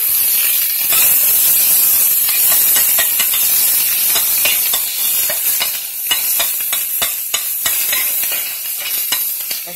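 Onions dropped into a hot pot for fried shrimp noodle soup hiss and sizzle loudly and steadily, with crackling pops and stirring scrapes through the sizzle and no talk.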